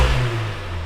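Car engine fitted with an APR open carbon fiber intake, a brief loud, deep engine roar that eases slightly as the revs drop.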